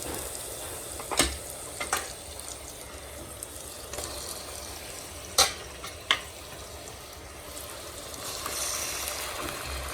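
Mutton frying in a small amount of oil inside a pressure cooker, a steady low sizzle with a few sharp clinks and scrapes of stirring near the start and middle.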